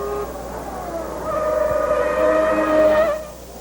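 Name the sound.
Formula 1 car passing at speed, 1992 Australian GP practice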